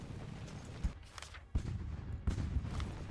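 Musket volleys and gunfire from a Revolutionary War battle in the strategy game Ultimate General: American Revolution: three sharp, loud shots at uneven intervals over a constant rumbling battle background.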